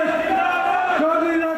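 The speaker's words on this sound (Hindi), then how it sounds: "महापंचायतों में उमड़ रही भीड़" Crowd at a farmers' mahapanchayat rally in Pilibanga, Hanumangarh, Rajasthan, a massed chorus of voices raised together in a sustained chanted slogan, loud and close.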